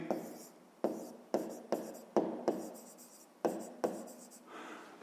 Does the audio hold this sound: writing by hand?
yes